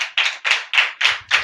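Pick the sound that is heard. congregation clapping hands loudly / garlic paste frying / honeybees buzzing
congregation clapping hands loudly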